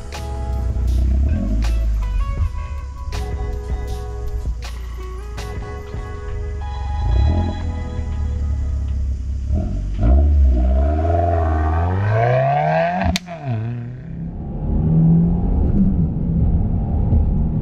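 A Subaru WRX engine rumbles at idle, then revs hard with a rising whine as the car accelerates from a standstill, loud and close, settling back to a lower drone.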